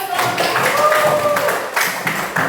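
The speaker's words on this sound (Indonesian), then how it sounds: "Kita tepuk tangan dulu" A classroom group claps together in a lively burst of many hands that runs throughout, with a faint voice briefly over it.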